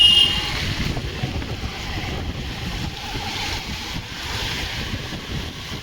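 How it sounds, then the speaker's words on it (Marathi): Ocean waves wash steadily onto Aksa Beach, a continuous broadband surf roar mixed with gusty wind buffeting the microphone, fairly loud and unbroken throughout with no voices. "फायनली आपण पोचलो आहे अक्सा बीचला"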